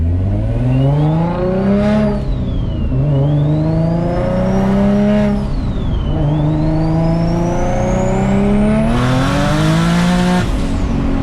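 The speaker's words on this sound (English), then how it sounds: "I'm just lighting these tires up lately" Nissan 370Z/G37 with a VQ engine spinning its tires, a loud sustained engine drone that rises and falls in repeated revving sweeps over a steady high tire squeal, close and continuous with no talking.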